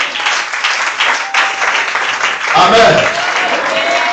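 Congregation clapping together at a French-speaking church celebration service, steady broadband applause throughout with a voice speaking over it and a brief cheer rising near the end.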